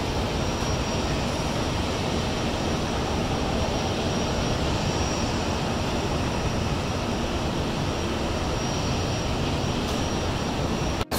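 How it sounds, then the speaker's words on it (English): SunExpress airliner engines roar steadily through takeoff at a steady, loud level from start to finish. "So I can hear the engine whirring and take off by Sun Express."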